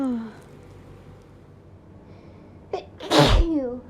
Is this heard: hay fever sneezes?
yes